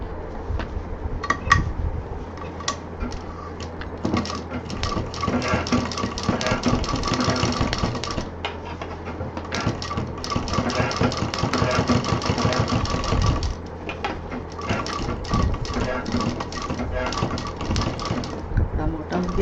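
A sewing machine runs in bursts stitching a tote bag, rapid mechanical chattering that starts and stops several times across the stretch, close and fairly loud, with brief pauses between runs.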